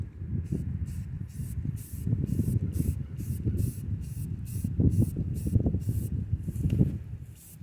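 A spray paint can coats a car bumper in a string of short, rhythmic hissing bursts separated by quick gaps, close and moderately loud, with no speech.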